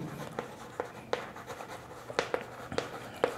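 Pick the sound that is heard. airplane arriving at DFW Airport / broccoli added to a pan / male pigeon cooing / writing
writing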